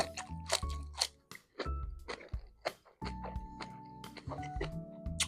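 Close crunchy chewing of soy-pickled jellyfish with wet squishing bites, repeated irregularly, with faint background music underneath.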